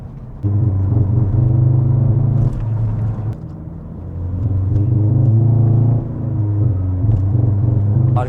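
A Stage 3 big-turbo Skoda Octavia 1.6 TDI diesel pulls on throttle, a loud close engine drone rising and falling through several surges of acceleration.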